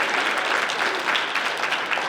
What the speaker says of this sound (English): And let's clap it up for the Calvary Christian MVPs.